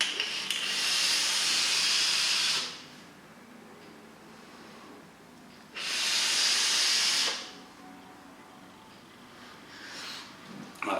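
Loud broadband vapour hiss from a Bullet RDA rebuildable dripping atomizer on a mech box mod, airflow partly open in a grid pattern, in two long bursts of about two seconds each, with quieter pauses between.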